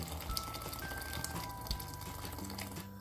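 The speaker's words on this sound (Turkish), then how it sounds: "İçerisine üzerine geçecek kadar sıcak su döküyorum." Hot water poured into a pot of sautéed black-eyed peas and garlic, a quiet steady rushing and sizzling bubble of liquid running continuously with a faint kitchen hum.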